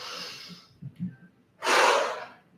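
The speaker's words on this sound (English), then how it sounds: "Inhale, exhale. Inhale, exhale." Breathing during a vinyasa yoga flow: a long audible exhale, a brief soft pause, then a strong, close inhalation or exhale rushing through the nose.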